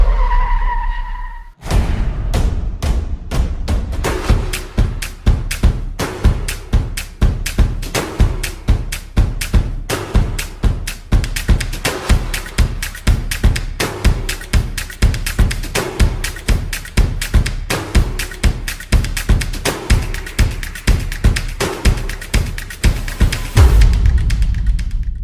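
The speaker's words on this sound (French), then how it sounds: "Mais avant ça, jingle!" A loud, energetic intro jingle runs for about 25 seconds, its punchy rhythmic beat layered with repeated car tire skidding and squealing effects before it cuts off at the end.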